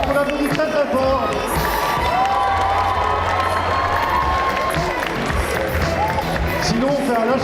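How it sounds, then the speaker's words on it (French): A cosplay contest awards crowd at Necronomi'con 2023 cheers and applauds loudly, with shouts, whoops and clapping merging into a continuous roar and voices calling out throughout. "c'est maintenant qu'on lève les bras et qu'on applaudit très très fort"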